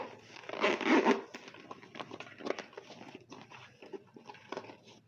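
Zippers on a handmade fabric crossbody bag with multiple pockets are pulled open and shut in a few quick rasping strokes, close by, with soft rubbing and handling of cloth between them.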